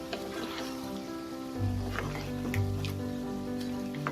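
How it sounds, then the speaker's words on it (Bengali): Chicken for Bengali Dak Bungalow chicken stir-fried with spices on a high flame gives a steady close sizzle with occasional stirring scrapes, over a droning tonal hum, with no voices. "এবার চিকেনটাকে মশলার সাথে কষাবো"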